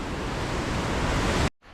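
River water flowing beside a forest foraging spot makes a loud, steady broadband rush that cuts off abruptly near the end.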